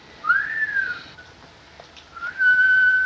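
Two long, clear sliding whistles, the first rising and falling, the second holding steady, played as a comic sound effect in a 1941 Laurel and Hardy comedy film, loud and alone with no talk.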